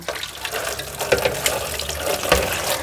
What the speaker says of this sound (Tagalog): Tapos ito, banlawan nga natin.